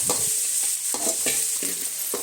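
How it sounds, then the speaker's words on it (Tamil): Onions and tomatoes sauté in a pan for a savory evening snack, with a steady close sizzle and repeated scraping, clattering stirs of the spatula against the pan. "வெங்காயம் தக்காளியெலாம் நல்லா வதக்கிட்டாங்க. தக்காளி போட்டு நல்லா வதக்கணும்."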